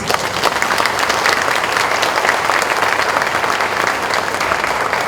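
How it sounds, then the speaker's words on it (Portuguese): Audience applause closing a seminar talk at an agricultural show, sustained dense clapping at steady loudness throughout, close and full, with no speech over it. "Fuerte más fuerte esos aplausos"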